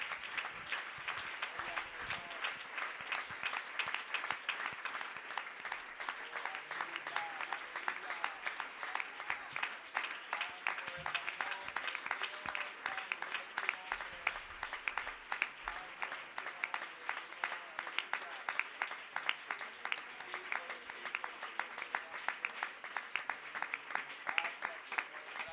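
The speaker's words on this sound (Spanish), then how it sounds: "Fuerte ese aplauso" A church congregation applauds steadily and loudly, dense continuous clapping from a crowd lasting the whole stretch, with voices mixed in.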